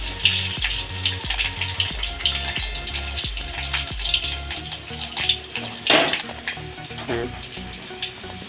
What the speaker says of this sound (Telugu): పోపు అయితే వేస్తున్నా. ఆయిల్ వేడైందో లేదో చూద్దాం. ఆవాలు, జీలకర్ర, వెల్లుల్లి అయితే ఎక్కువ వేస్తున్నా.